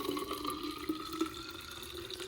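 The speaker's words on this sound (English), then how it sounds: "I'm gonna get some water" Water running from a tap into a container, a continuous soft stream with a faint rising filling tone, steady and close, without talk.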